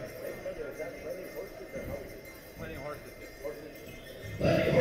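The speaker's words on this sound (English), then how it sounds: "Plenty horses." Horses in a powwow grand entry at Arlee Powwow 2023 clop their hooves irregularly under a person talking, with a louder burst of noise at the very end.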